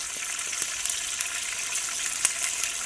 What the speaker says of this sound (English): I've put butter on a little bit of bacon as well, which you can hear sizzling.